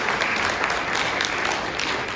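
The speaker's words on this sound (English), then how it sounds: "So everybody give them a round of applause for having us tonight." Theatre audience at the Stirling Festival Theatre claps in a short, loud, continuous burst of applause, close and steady throughout.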